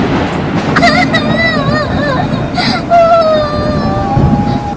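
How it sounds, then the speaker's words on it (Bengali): Whimpering, wailing cries of a character in a stormy cartoon fairy-tale scene near a boat landing, rising and falling in a wavering tone over steady rain and wind noise. "কান্নার শব্দটা ওই দিক থেকেই আসছে বলে মনে হচ্ছে"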